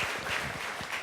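Applause from an audience at a Japan Exchange Group event, a brief, steady patter of many hands clapping at moderate volume.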